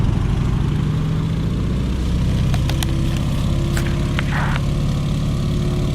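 Boeing PT-17 Stearman radial engine running after start-up in a flight simulator game: a loud, close propeller drone with a steady low throb, a few clicks and ticks over it, and a rising engine tone partway through.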